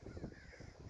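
Crows cawing in a park, a run of harsh calls over a low rumbling outdoor background, fairly faint and steady across the second.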